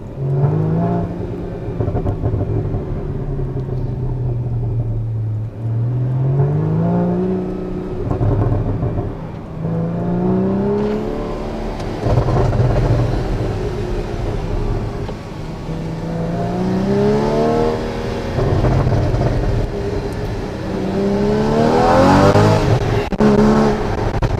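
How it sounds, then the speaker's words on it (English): A Porsche's Akrapovic exhaust drones and rises as it accelerates through gears, heard from inside the cabin, with loud revving swells and shifts, no talking. "Just a little sample of the exhaust sound."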